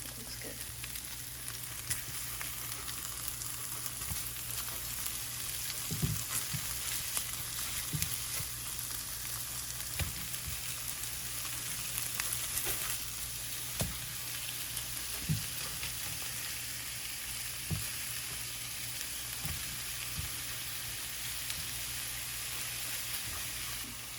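Chicken burger patties searing in a pan, giving a steady close sizzle and hiss, with occasional sharp clicks and scrapes from a spatula turning them. Nobody speaks.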